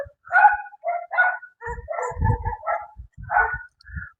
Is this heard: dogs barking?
yes